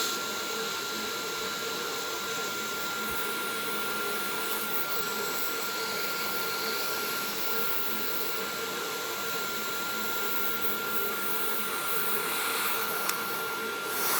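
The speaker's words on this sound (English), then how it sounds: "you're going to be able to blow dry the hair a little bit more quickly" A hair dryer blow drying hair at home, a steady, continuous whoosh and whine held close and even throughout, with a faint hiss shift near the end.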